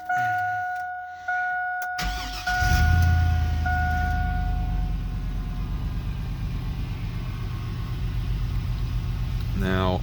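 A 2001 GMC Yukon XL K1500 with a 5.3 V8 cranks after warning chimes, catches and settles into a steady, close idle that runs on to the end.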